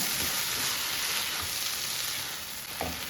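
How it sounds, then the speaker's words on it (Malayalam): Egg chilli dry fry being stirred in a hot pan, giving a steady soft sizzle with faint scraping stirs running underneath, close by and with no voices. "നന്നായിട്ട് ഒന്ന് ഇളക്കുക."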